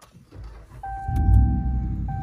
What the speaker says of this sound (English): now we're gonna start up the truck, see what happens.